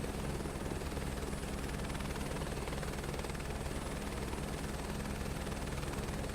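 Chinook tandem-rotor helicopter in Microsoft Flight Simulator 2024, a steady, loud, continuous rotor drone and engine hum throughout with an even low throbbing pulse, no voices.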